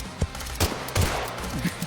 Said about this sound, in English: Somebody's shooting a shotgun. I hear it.